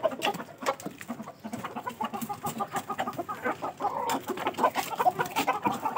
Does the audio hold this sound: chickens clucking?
yes